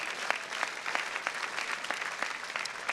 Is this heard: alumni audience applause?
yes